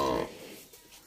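A newly purchased water buffalo gives a single loud, close low moo that fades after a moment into quiet farmyard background.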